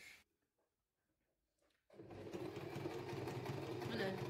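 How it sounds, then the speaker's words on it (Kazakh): A sewing machine stitches a traditional ornament onto fabric during a craft workshop, starting abruptly after near silence and running in a steady, close mechanical whir. "Мына тігіп шығарамыз."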